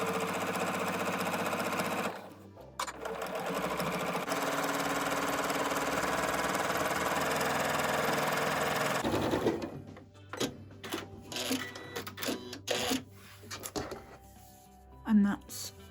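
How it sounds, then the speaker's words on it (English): A sewing machine stitches down the sides of a small fabric tote: a steady fast motor whir for several seconds, then short stop-start runs of stitching toward the end, with a person talking over it. "and then stitch down either side"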